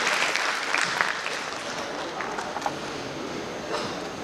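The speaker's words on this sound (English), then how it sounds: "May we hear a bigger round of applause" Sustained audience applause at a certificate and memento ceremony for award recipients, a steady wash of many hands clapping at moderate distance throughout, with no one speaking over it.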